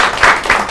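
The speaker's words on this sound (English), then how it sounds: "Give it a round of applause to all you." Brief burst of clapping from a small group at a high school softball roundtable show, a few loud close claps swelling together and fading within a second.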